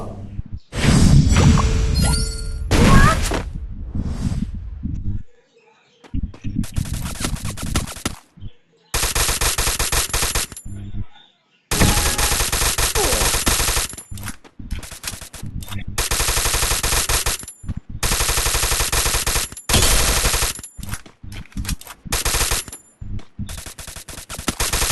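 Rapid automatic gunfire from the Free Fire video game rattles in long, loud bursts with brief gaps of silence, keeping a dense, continuous barrage going for most of the stretch.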